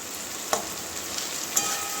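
Bitter gourd and potato fry in a pan with a steady bright sizzle, broken by a couple of faint clicks from stirring, close and alone without talk.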